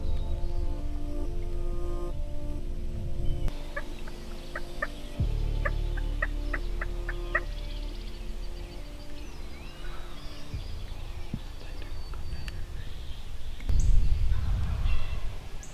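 Rio wild turkey gobbling on a Kansas farm during a spring hunt, several short bursts from a bird at moderate distance, heard outdoors with low rumbling wind and background noise and no talking.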